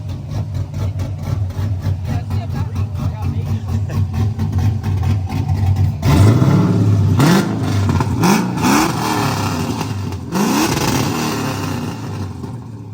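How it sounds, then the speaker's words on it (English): An LS-swapped BMW E36 engine idles with a steady rumble, then revs hard several times in quick bursts, loud and close. "Go rev it real quick"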